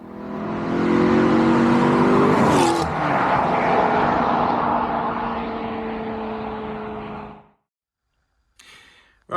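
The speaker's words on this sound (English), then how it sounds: "Here's a gratuitous shot of the Maserati flying by to even it all out." A Maserati car roars past at speed, a loud engine sweep that peaks, drops in pitch as it goes by and fades away, followed by near silence and a brief faint noise at the end.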